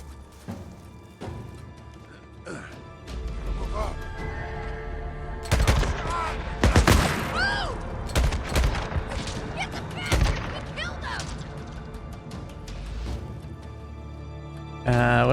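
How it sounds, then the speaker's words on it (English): Enemy gunfire rattles through a session of the video game Days Gone, with bursts of shots and heavy thuds layered over a steady background bed and a voice talking in between. "we're already being shot at?"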